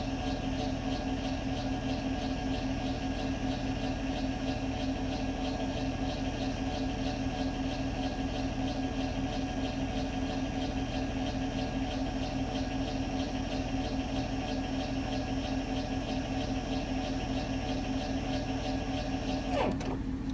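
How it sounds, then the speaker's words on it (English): A Geo Pro 19F camper's electric jack stand motor hums steadily and loudly for about twenty seconds as it raises the stand, then cuts off abruptly with a brief clunk when it reaches the top. "We're going to raise this stand all the way up, and you'll hear the motor stop when it gets up to the top."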